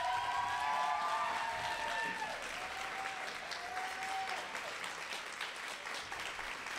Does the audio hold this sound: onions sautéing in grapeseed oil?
no